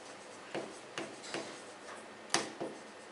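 Chalk or marker writing a statement on a classroom board during a physics lesson, a handful of sharp taps and short strokes at an uneven pace, close and moderately loud, with no speech.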